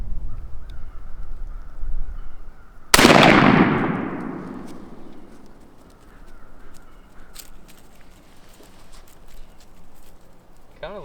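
A shotgun fires a single loud, sharp blast outdoors while being patterned at 20 yards for turkey hunting, its echo decaying over a few seconds against a quiet background.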